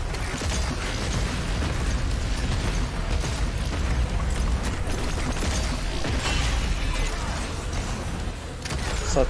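Gunfire hitting a monster in the Doom Eternal video game, The Ancient Gods Part Two expansion, heard as a dense, continuous roar of booming shots, explosions and mechanical clatter that never lets up.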